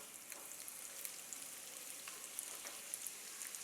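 Garlic chutney with a little turmeric being stirred into hot oil in a pan just after the heat is switched off; a faint, soft sizzle with light scattered ticks from stirring.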